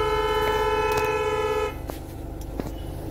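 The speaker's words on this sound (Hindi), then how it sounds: "पीछे हॉर्न पे हॉर्न बज रहा है बिकॉज हम लोग हैं रोड पे" Car horns honking on a road behind a wrongly parked car: a long steady horn blast for about a second and a half, then traffic noise with a couple of short toots, no talk.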